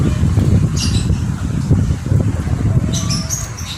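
A male lovebird being trained to sing, giving bright squawks and high chirping bursts over a steady low background rumble, with calls clustered near the start and again toward the end.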